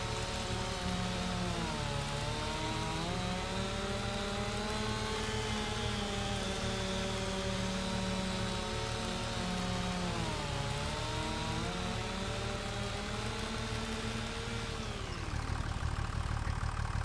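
A chainsaw in a logging roleplay video game cuts through a big tree, its engine whining steadily at high revs with pitch sagging and recovering as the blade bites, loud and continuous before dropping away near the end, with no talk.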